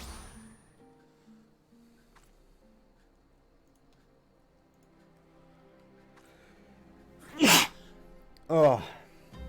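A sneeze from someone nearby, followed a moment later by a second sneeze, two sharp loud bursts breaking through an otherwise quiet room with a faint low hum of game music.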